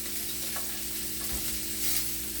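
Beef filet searing in a hot pan, a steady, fairly quiet sizzle and crackle with faint stirring clatter and no voices.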